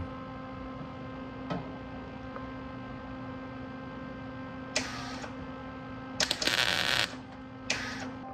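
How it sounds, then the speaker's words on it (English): Tack welds made with a welder: steady electrical hum underneath, then short crackling bursts of arc sizzle, one longer in the middle, close and fairly loud. "I'm gonna put a tack weld in."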